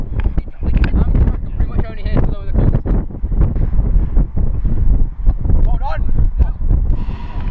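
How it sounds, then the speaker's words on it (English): Heavy wind buffets the microphone with a loud, low roaring rumble throughout, while voices come through faintly beneath it. "Then it got windy"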